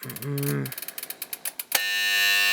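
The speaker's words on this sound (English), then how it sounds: "let me just try and sound the alarm there now" A brief buzz, then a rapid clattering of metal strikes, followed by a loud, steady ringing bell from a bright green Bosch UDW2 1970s flip alarm clock.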